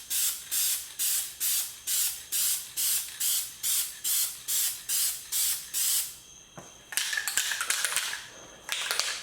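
Dupli-Color matte white rattle can spraying a truck, a run of short rhythmic hissing bursts about two per second, close and loud, then a few irregular sprays and clicks.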